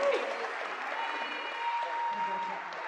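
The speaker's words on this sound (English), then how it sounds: "Let's give them a little round of applause." An audience at a robotics challenge applauds the competing teams, a sustained round of clapping that carries on evenly for a few seconds.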